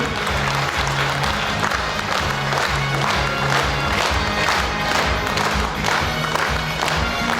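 Loud, dense applause and cheering from a large audience at an agricultural workers' day awards ceremony, steady throughout with crowd voices mixed in.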